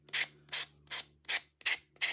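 Six rhythmic strokes of an emery board sanding paper in a craft project, each a short, close, soft scratchy rasp separated by brief pauses.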